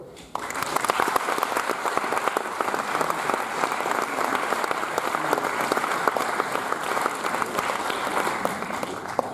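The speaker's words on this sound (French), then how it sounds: "Merci d'applaudir William McGregor" Film festival audience applauding a director introduced before a screening, dense sustained clapping that starts abruptly and stays steady and full for several seconds.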